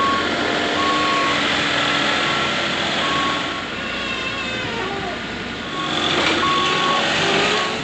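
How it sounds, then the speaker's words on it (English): A big delivery truck backs up at a building site, its reversing alarm beeping steadily through continuous engine rumble and outdoor noise, close and fairly loud, with some faint talk in the background. "they brought a big truck"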